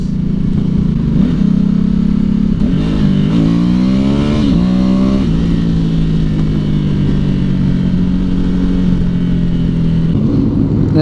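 Motorcycles on a large group ride stream past close by, a loud continuous engine roar with rising and falling pitch sweeps as individual bikes pass one after another.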